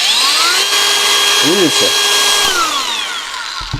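An ALLSOME PT037-N cordless angle grinder spins up on a fresh battery and runs at a steady high whine, then winds down near the end. It is loud and close, and someone speaks briefly over it.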